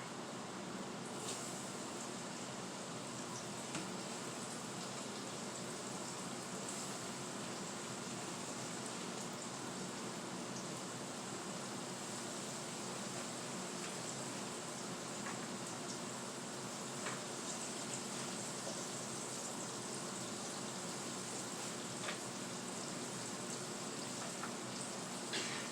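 Onions sizzle in a hot pan, a dense, steady frying hiss with faint crackles that runs evenly from start to finish, with no voices.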